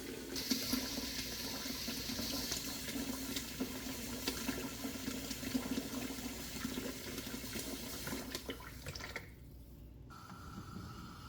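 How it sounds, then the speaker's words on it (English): Running water and splashing close by as cleaned beef bones go into fresh hot salted water, a steady liquid rush that drops off near the end into a quieter hiss. "these are the cleaned beef bones going in fresh hot water with salt"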